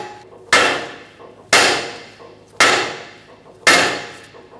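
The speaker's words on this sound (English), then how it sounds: "you're going to give it a whack right here" Hammer striking a tie rod end on a 2012–2018 Ford Focus steering knuckle, four sharp metallic whacks evenly spaced about a second apart, each ringing and decaying, loud and close with no talk.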